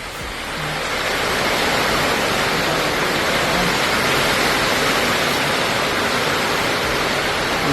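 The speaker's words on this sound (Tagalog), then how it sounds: "lumakas na ang ulan, oh." Heavy rain pours steadily outdoors during a New Year's Eve gathering, a dense, continuous hiss that stays loud and unbroken throughout, with no talk heard.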